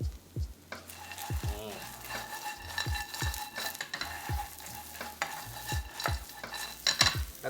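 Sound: sliced red chili stir-fried with vegan soy protein

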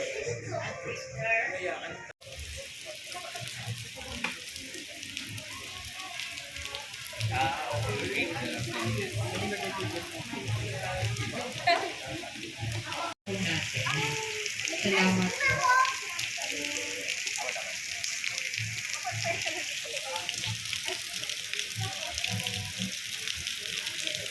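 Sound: rain falling in a park in Manila

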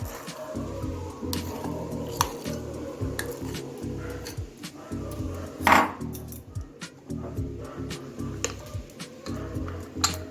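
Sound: three kinds of lentils being poured into a bowl

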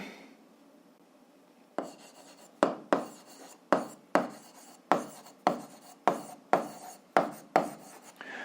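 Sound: writing on a board

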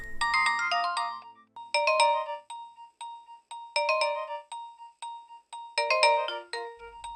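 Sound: phone ringing

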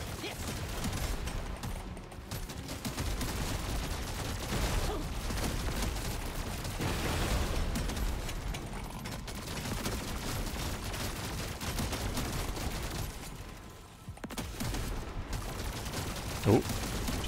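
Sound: overclocked plasma carbine firing in the video game Deep Rock Galactic

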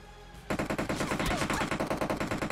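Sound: gunfire in video game PUBG Mobile

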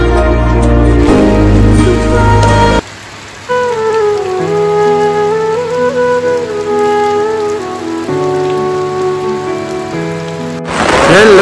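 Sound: heavy rain falling

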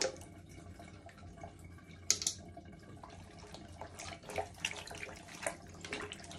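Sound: washing items under running water

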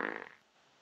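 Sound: fart

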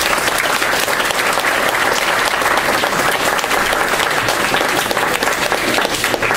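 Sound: audience applause at a recital

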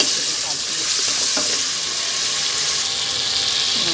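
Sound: garlic frying in oil for tadka

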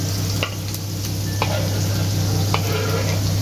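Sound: onions and garlic frying in pan

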